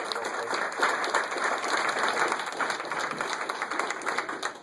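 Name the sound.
audience applause for legislative delegation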